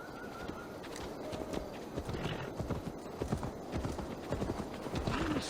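Horse hooves pounding the ground during a ride in the video game Assassin's Creed Valhalla, a steady rhythmic clip-clop of hoofbeats, close and continuous, over low background ambience.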